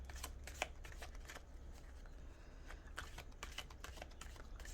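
Tarot cards riffle and slap together in quick repeated bursts, a soft crisp shuffling rhythm at close range with no voices.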